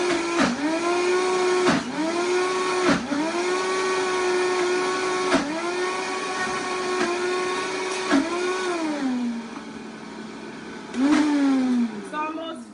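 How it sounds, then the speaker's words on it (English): A kitchen blender whirs loudly as it purees vegan cheese with nutritional yeast, its motor pitch dipping and recovering in repeated surges as the load shifts, then briefly easing before revving up again. "So I'm just gonna finish blending this."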